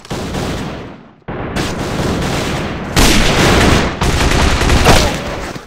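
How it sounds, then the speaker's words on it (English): Gunfire in the online shooter Alliance of Valiant Arms during a competitive match: loud, dense bursts of rapid automatic shots and cracks, broken by a short pause, then continuing in heavy sustained volleys. "Quali with a nice headshot on Deacon."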